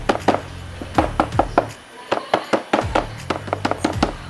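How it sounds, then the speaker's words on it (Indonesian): The loose front deck leg shield panel on a Yamaha Mio Z 125 scooter rattles with rapid, rhythmic knocking clusters over a low idling engine hum, close and fairly loud, with a brief lull midway. "Jadi yang ketiga ini bunyi di leg shieldnya, bunyi di dek depan kalau gue bilang."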